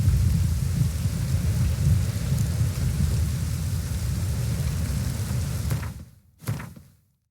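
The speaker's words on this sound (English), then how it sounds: "Rain again." Steady rain and rolling thunder from a stormy scene in the video game The Witcher 3: Wild Hunt, a dense continuous wash that holds loud for several seconds, then cuts out abruptly with a brief final rumble burst and silence.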